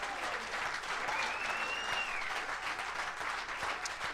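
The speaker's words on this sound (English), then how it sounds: "How about a round of applause for Jace Sternberger, Aaron Jones tonight?" Soft, fairly distant audience applause during a live clubhouse show with football players, a steady wash of clapping at low volume with a faint whistle-like tone passing through.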